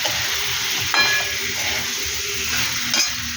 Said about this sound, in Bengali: আদা বাটা এটাকে নাড়াচাড়া করবো, ভালো করে কষাবো